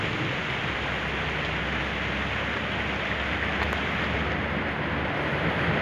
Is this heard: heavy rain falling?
yes